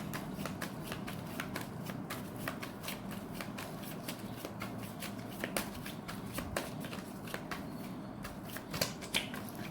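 Tarot cards are shuffled close up in a quiet room, giving a soft, steady riffling patter with sharper flicks and slaps as cards are drawn and set down.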